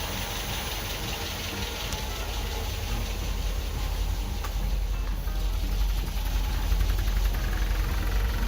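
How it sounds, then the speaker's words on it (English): A newly installed inline electric fuel pump runs on a 1974.5 MG MGB, its steady mechanical hum and vibration mixed with a continuous engine-like drone that builds slightly louder over several seconds. "So let's give it a shot. All right, so let's listen to it. It's going."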